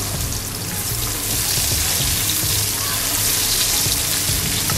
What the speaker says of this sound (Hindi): इसको हम अच्छे से फ्राई कर लेंगे